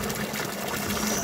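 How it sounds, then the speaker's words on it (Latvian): Water is dosed by a Collomix mixer into a container as a continuous, fairly loud rushing pour that holds steady for just over a second, close by, with no voices. "mums viņš ielies precīzi ūdens, ja kurā brīdī varētu arī apstādināt"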